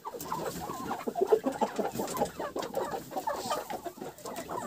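Chickens and a rooster cluck and squawk in a farmyard in the evening, a busy, continuous jumble of close, loud bird calls with no talk.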